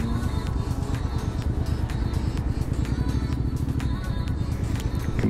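A motorcycle engine runs steadily while riding at about 35 miles an hour, a continuous low drone with wind noise throughout and no talk.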